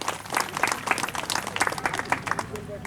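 A crowd at a Bhim Army political gathering in Chhattisgarh applauds to welcome a speaker, loud, dense and uneven clapping close by, with voices mingling underneath.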